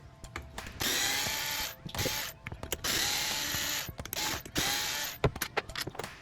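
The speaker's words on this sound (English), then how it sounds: "So pull those 4 screws, and they're long." A power driver whirs in several short bursts, removing long screws from an Arrma Typhon 3S RC car, with brief ratcheting clicks and handling noises between the runs.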